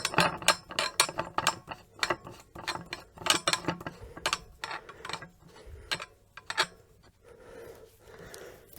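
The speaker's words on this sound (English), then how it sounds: "So here's the gun. I'm going to screw this back on." Reseal part of an 1870s CO2 Giffard rifle being screwed back on, a quick run of close, crisp ratcheting clicks and metal-on-metal ticks that slows and grows sparser toward the end.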